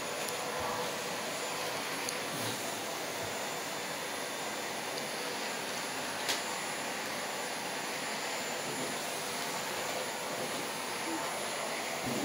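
Vacuum cleaner running in a home, a loud, steady, broad whooshing roar that holds continuously throughout with barely any change, close to the microphone.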